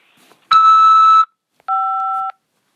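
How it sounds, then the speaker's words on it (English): A phone system sounds two electronic tones before a corrections-facility call can be accepted: a harsh buzzing beep, then a second, cleaner two-tone beep after a short gap, loud and alone. "After the beep, press 5 to accept this call."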